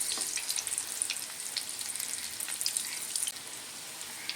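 Vegetable chops frying in hot oil as they are turned with a spoon: a steady, close crackling sizzle with scattered pops and brief clinks, fading slightly toward the end, with no voices.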